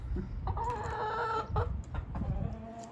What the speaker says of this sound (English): you can hear my chickens